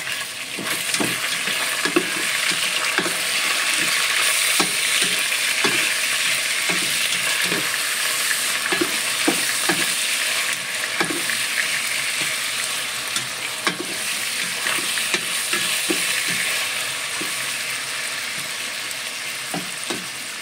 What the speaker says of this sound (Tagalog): Ginisa ko muna yung chicken